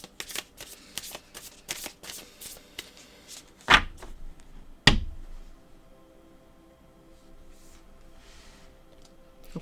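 Oracle cards are shuffled by hand at close range in a quick series of soft riffling flicks. A couple of sharper taps follow, then quieter rustling.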